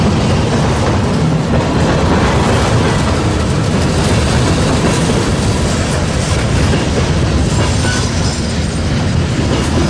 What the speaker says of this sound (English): this is an eastbound manifest coming into Fremont, Nebraska on their Transcom line that runs east-west